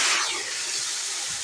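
Beef frying in its own fat for nalli nehari gives a loud, steady sizzling hiss, close and continuous for a brief moment.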